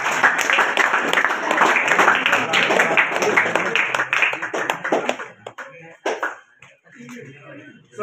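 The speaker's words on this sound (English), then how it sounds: "big round, please." Audience applause at an event, a fairly loud burst of clapping that thins out into a few scattered claps and voices toward the end.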